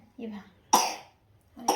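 A child coughs twice, short sharp bursts close by, with a soft vocal sound before the first.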